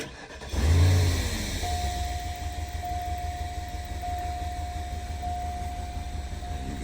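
A Cadillac STS engine cranks and catches with a low surge, then settles into a steady idle with a thin whine running over it, close by and with no talk.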